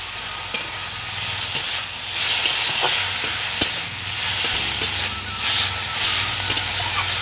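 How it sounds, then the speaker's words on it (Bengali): Leafy greens frying in a pan with salt and turmeric, a loud continuous sizzle with scraping stirs and a few sharp clinks of a utensil against the pan. "ভালো করে ভেজে নামিয়ে নেব"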